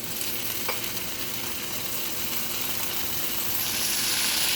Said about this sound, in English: First I'm gonna cook this bacon, and I'm gonna cook it until it's crispy